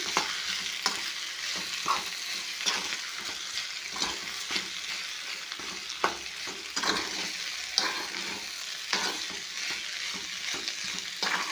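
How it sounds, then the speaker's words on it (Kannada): Smashed potatoes fry in a pan with a steady close sizzle, while a utensil scrapes and stirs them in regular strokes that add soft rhythmic knocks, with no talking. "ಇವಾಗ ಹಾಕಿದ್ ನೋಡ್ರಿ, ಸ್ಮ್ಯಾಶ್ ಮಾಡಿರುವಂಥ ಆಲೂಗಡ್ಡೆನ ಹಾಕಿನಿ"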